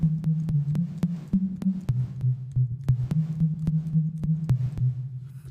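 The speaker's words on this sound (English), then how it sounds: "you can hear it more obviously on oscillator 2 as it's just a pure bass tone. So you can hear those clicks now." A pure bass tone from the second oscillator of a Spire synth sustains with a wobbling pitch, punctuated by sharp, regular clicks at each note start, about a dozen over several seconds.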